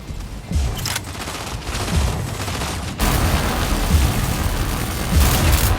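Continuous rattling gunfire and booming blasts from mech battles in the Mech Arena video game, loud and sustained, growing denser halfway through.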